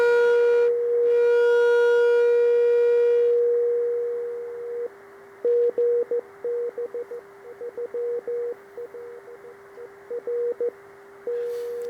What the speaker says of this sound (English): So this is a bit of relatively short skip, Sporadic E.